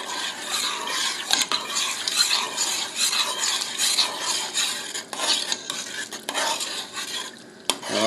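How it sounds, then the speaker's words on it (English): A spoon stirs black pepper into asparagus soup in a pot, continuous loud scraping and swishing with a bright sizzle underneath and a couple of sharp clacks against the metal. "And of course we're going to stir that in."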